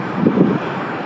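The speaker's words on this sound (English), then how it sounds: "It's a bit windy, guys, so the shit a little difficult today" Wind buffets the microphone in a brief burst of low, blustery rumble.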